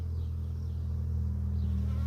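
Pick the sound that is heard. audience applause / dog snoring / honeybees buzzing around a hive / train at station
honeybees buzzing around a hive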